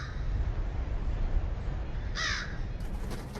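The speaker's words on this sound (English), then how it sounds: "here comes the bird" A bird cawing in the video game The Lightkeeper, a short harsh call partway through over a steady low ambient rumble, fairly close and moderately loud.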